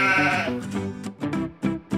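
Repeated sheep bleats from a Peppa Pig toy, a long wavering bleat followed by several shorter ones, loud and close with brief pauses between.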